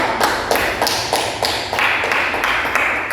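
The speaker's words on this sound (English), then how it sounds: "Finally, give the applause for the speaker and for you." Seminar audience clapping for a speaker, a small group producing a fairly rhythmic, distinct series of claps, close and moderately loud.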